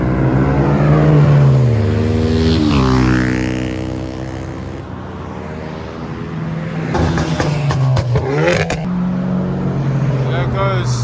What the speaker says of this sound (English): Got a very, very loud Corsa.